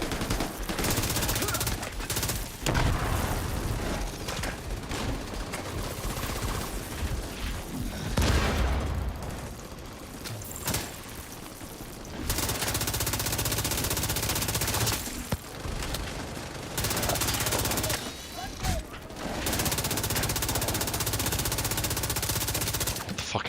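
Sustained automatic gunfire in The Division 2, loud close volleys of rapid shots with booms, broken by a few short pauses and resuming in long bursts across the whole stretch.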